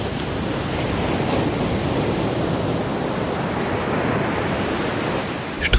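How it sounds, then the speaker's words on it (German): Ocean waves washing onto a beach make a continuous, even roar of surf, loud and close with little variation, with no voices. "30 Minuten lang kannst du dem Rauschen der Wellen lauschen und einfach mal abschalten."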